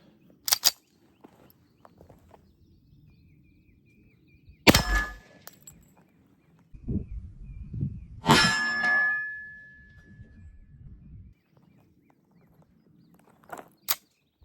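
A .45 ACP round fired from a Rock Island pistol at cheap body armor gives a sharp, loud report that rings briefly against a quiet outdoor background. A few other short, clanging impacts sound at separate moments.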